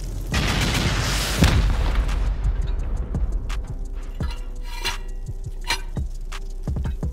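Rocket explosions during a raid in a survival video game: a heavy, loud boom swells and decays early, followed by scattered sharp cracks and ticking impacts at moderate distance.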